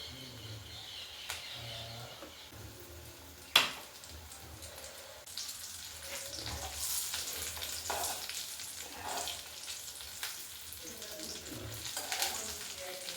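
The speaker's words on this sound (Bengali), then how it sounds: "সেই তেলে চিংড়ি চপগুলো গ্যাসের ফ্লেম ধীরে রেখে ভাজতে হবে" Shrimp chops frying over a low flame in mustard oil, a soft, steady sizzling hiss that swells after a single sharp clack and then carries on evenly.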